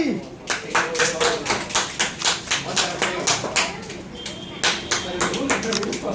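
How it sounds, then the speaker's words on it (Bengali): A small group claps for prize-winning students at a school programme, with rhythmic, fairly close hand claps in steady bursts that pause briefly and then resume. "জোরে হাততালি।"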